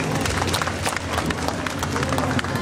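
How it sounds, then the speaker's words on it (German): Dense, loud crowd applause at a sports car parade, a continuous roar of clapping and crowd noise. "Einen Applaus für unsere Damen"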